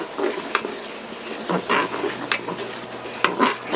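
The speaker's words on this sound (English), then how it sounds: "Stir that up in there with the onion and the butter and the grease from the bacon." Flour is stirred into onion, butter and bacon grease in a hot pressure cooker, a soft scraping stir with a light sizzle and occasional clinks of a utensil against the pot.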